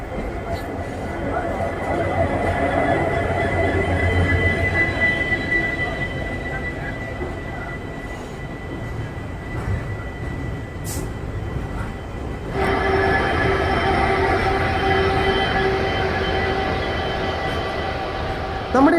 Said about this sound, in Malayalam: പത്ത് നാൽപ്പത്തഞ്ചിനെത്തേണ്ട നമ്മുടെ ട്രെയിൻ ഇപ്പോൾ പത്തഞ്ചായപ്പോൾ തന്നെ രാമേശ്വരം റെയിൽവേ സ്റ്റേഷനിലോട്ട് ഇപ്പോൾ എത്തിയിട്ടുണ്ട്